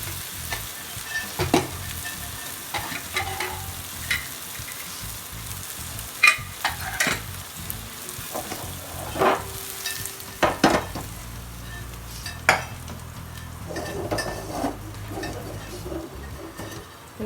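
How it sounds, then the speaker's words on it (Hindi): Cooked masala for rajma sizzles as it is stirred and scraped out of the pan into a pressure cooker, with irregular clanks of the spoon. "अब हम इसे ट्रांसफ़र करेंगे राजमा वाले कुकर में।"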